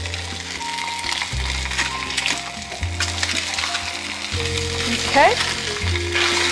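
A red snapper fillet fries in a pan with a steady, dense sizzle all the way through, close and fairly loud, with a soft clatter or two and a brief spoken word over it.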